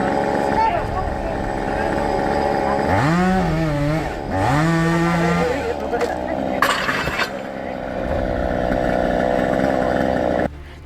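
Chainsaw felling a tree outdoors, its engine droning steadily throughout and revving in sweeping pitch swoops midway, with a loud crack near the end and people talking over it.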